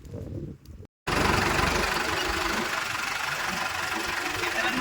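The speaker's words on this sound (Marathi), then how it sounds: "आता हे ट्रॅक्टर आहे, आता घरी निघालेलं." A farm tractor heads home after leveling a field, its engine a steady, loud, rough rumble with a knocking edge that starts abruptly after a brief silence and runs on unchanged.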